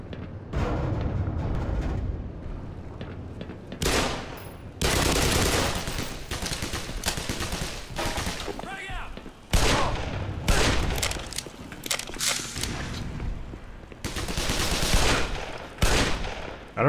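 Bursts of gunfire from a weapon in the video game Black Mesa: Xen, loud and repeated in clusters of rapid shots with short gaps and booming impacts over about seventeen seconds.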